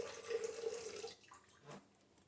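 Ordinary tap water pours steadily into a stand-mixer bowl for pizza dough for about a second, then the flow tapers off, followed by a few faint clinks and splashes. No one speaks.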